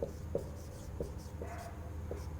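A teacher writes on a board during a reasoning class, producing a handful of short, separate tapping strokes at an uneven pace, close and clear against a low steady room hum, with no talking.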